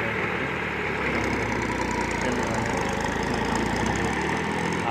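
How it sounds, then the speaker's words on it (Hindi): A tractor engine runs steadily on a farm, a continuous loud mid-to-low idling drone with a fine rapid pulse, close by and with no talk over it. "ट्रैक्टर तैयार हो रहा है जो सब काम करने वाला है"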